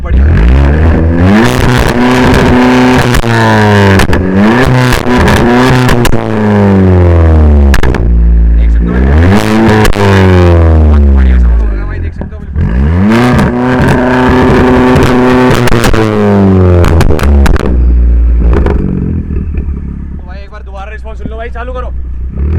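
A VW Polo GT with a stage 2 remap and valvetronic end can revs hard from standstill, loud repeated climbing engine and exhaust bursts with pauses between, recorded close, ending in a lower idle.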